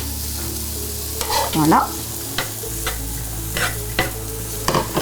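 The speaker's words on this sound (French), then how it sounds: "On va mettre nos petits oignons. On les entend chanter." Onions fry in coconut oil in a pan for a vegetable curry, giving a steady close sizzle broken by several scraping stirs; a single brief word is spoken.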